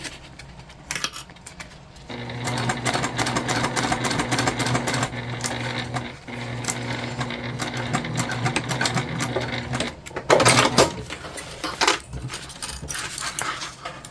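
A sewing machine stitches a convertible bag in a long, steady, humming run after a brief quiet start, stopping near the end before a short burst of handling noise.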